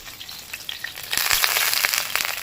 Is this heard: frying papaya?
yes